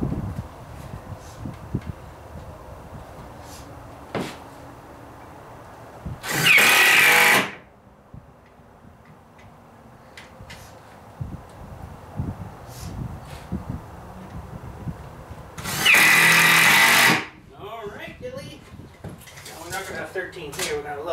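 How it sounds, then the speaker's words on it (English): A power drill drives screws into a wooden door frame during door building, two loud whirring bursts of about a second each, separated by quieter workshop handling and knocks. "Now we'll let Dilly finish firing screws in these here"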